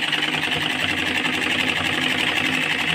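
A sewing machine runs steadily and rapidly, stitching the centre seam of a ladies' pajama, its fast even whir and needle chatter continuing close and uninterrupted throughout.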